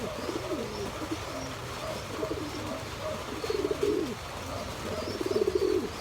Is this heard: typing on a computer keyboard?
no